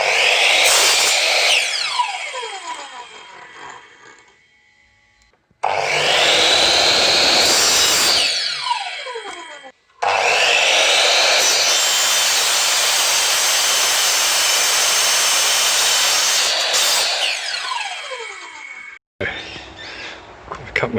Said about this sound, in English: Cut my stock down to size.